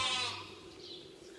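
A sheep on a farm during lambing season gives a brief bleat at the start, close and fairly loud, then fades into a low indoor barn hum.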